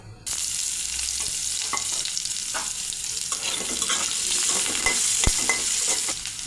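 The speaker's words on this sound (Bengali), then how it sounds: "এবার কেটে রাখা আলু ভেজে নেব।" Cut potatoes fry in oil in a pan after prawns, with a steady, close sizzle throughout and occasional clicks from stirring, no talking.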